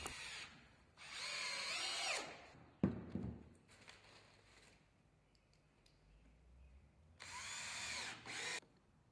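Power drill driving 1 1/4 inch screws into wooden pieces of a chimney swift tower, with three whining bursts and light handling clatter between them, close-up.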